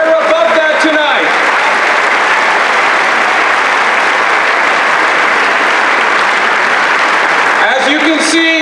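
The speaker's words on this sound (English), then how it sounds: "Give yourselves a round of applause." Loud, sustained applause from a large gathered crowd of congregation members at a community organizing assembly in Northern Virginia, swelling right after a voice on stage and fading as talk resumes near the end.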